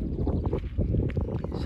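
Wind gusts over a microphone at a seaside promenade, a low rumbling buffet that stays close and continuous throughout, with faint background noise.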